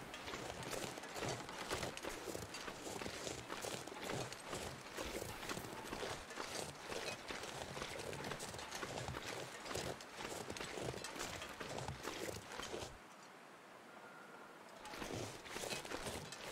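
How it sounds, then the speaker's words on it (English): Crunching footsteps in the survival game The Long Dark, a steady run of close, fairly soft steps over a constant windy hiss that briefly falls quieter near the end before the steps resume. "I was hearing footsteps."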